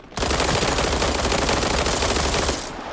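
Sustained automatic fire from an MPX in the shooter game World War 3: a loud, continuous rapid burst of gunshots starting abruptly and running nearly three seconds before tapering off.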